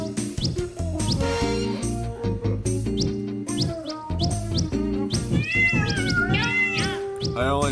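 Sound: cat meowing in the video game Tasty Planet

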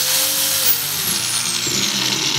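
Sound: Energomash angle grinder running

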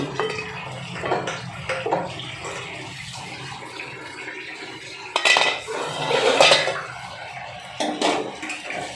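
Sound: lid being taken off a cooking pot

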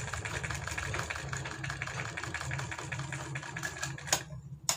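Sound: sewing machine stitching a collar onto a warm kurti

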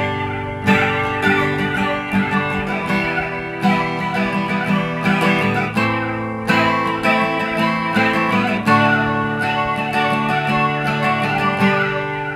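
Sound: guitar flanger effect from Behringer digital multi-effects

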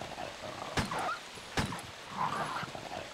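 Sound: dogs growling in Resident Evil video game

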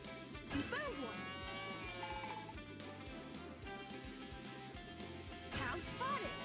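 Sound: cow mooing in Paw Patrol video game

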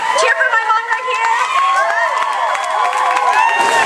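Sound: crowd cheering at Filipino Pride Day

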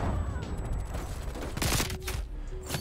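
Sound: MAC-10 submachine gun firing in Black Ops Cold War video game

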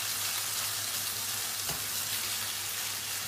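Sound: minced meat frying in pan

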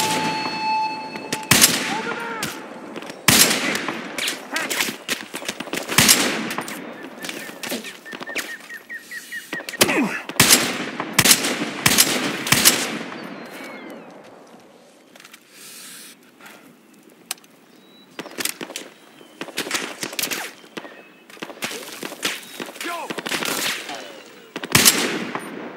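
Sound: gunfire in the video game Battlefield Hardline

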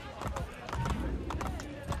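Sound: horse galloping in a video game

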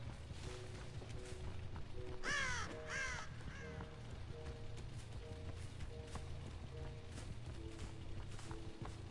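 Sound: crows cawing in a video game

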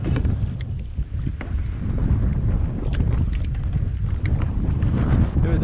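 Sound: wind on a lake while fishing from a kayak

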